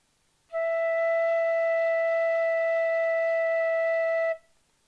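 A D tin whistle holds a steady E, fingered with five fingers, one clear sustained tone lasting about four seconds before stopping, heard alone and up close.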